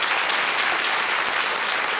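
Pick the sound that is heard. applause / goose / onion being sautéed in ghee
applause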